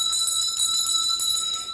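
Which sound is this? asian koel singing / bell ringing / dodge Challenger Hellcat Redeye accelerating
bell ringing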